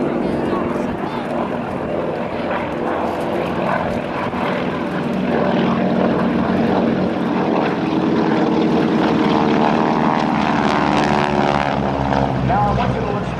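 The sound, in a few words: GEICO Skytypers 600 horsepower propeller aircraft roaring past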